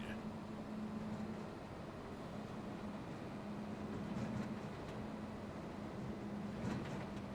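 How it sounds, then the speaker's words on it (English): A train in the Farming Simulator video game rolls along steadily at mid distance, a low continuous rumble with faint rhythmic clatter running throughout, with no talking. "I just gotta be careful with the train, because obviously crossing that train truss will be fun"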